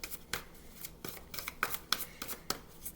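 Tarot cards are shuffled and flipped close by, a run of quick papery riffles and snaps in an uneven rhythm of about ten bursts, with no talking.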